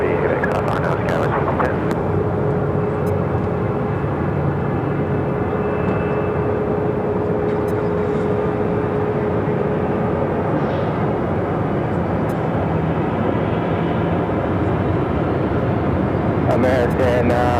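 A DHL cargo Boeing 767 converted from a passenger jet takes off at Phoenix Sky Harbor airport, its engines giving a loud, sustained roar that holds steady, with a faint whine running through part of it and wind buffeting the microphone.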